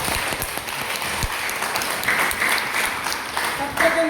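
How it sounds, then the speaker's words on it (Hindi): Applause from an audience at an academic Hindi language seminar at Mizoram University, a steady crackle of many hands clapping that carries on evenly, with faint speech mixed in beneath. "जोरदार ताली होनी चाहिए 3 संस्थानों।"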